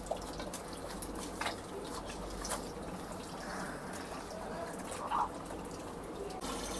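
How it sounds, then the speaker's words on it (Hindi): Water runs and drips at an outdoor sink while goat tripe is washed, a soft steady trickle with occasional splashes and faint handling noises. "ये हम बाहर वॉश कर रहे हैं, सहन में जो हमारा सिंक लगा हुआ है"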